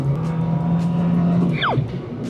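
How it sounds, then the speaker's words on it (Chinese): Close engine note from a Proton Saga with a 4-speed automatic under a hard throttle press, holding a steady drone before swooping sharply as it changes gear. "在加速的时候，你看我现在一脚油门下"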